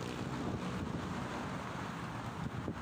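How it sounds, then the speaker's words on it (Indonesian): Strong wind keeps buffeting the microphone outdoors near the Pinisi bridge in Jakarta on an overcast afternoon. The rumble is loud and steady for the whole stretch and no voice is heard. "saat ini hembusan angin di kawasan ini cukup kencang"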